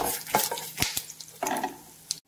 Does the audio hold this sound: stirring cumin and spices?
yes